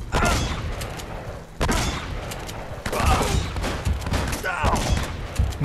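Gunfire in the video game Uncharted comes in loud bursts of rapid shots and booms that hit again and again, with dense clatter and low thumps throughout.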